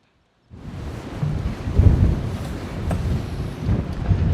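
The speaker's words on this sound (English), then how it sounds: "it's definitely breezy in Grapevine Canyon this morning" Wind gusts through Grapevine Canyon in Death Valley, California, arriving after a brief silence as a loud, close, low rumbling buffet against the microphone that rises and stays strong.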